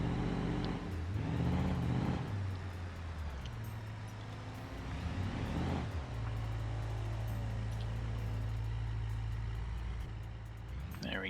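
An SUV engine in a driving game idles and revs, with a couple of brief throttle rises settling into a steady low drone, while a voice talks over parts of it.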